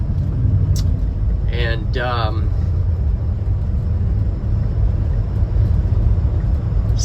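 A Subaru Sambar mini truck's engine drones and rumbles steadily nearby, laboring continuously as it drives up a hill, with a brief spoken word partway through.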